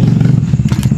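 A motorcycle engine rumbling close by with a low, steady throb and some rattling clatter.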